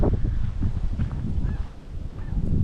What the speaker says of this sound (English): We're probably gonna see some geese sitting down in the river out there.